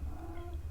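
A pet cat gives a short, close meow, a single drawn-out tonal call lasting under a second with no one speaking.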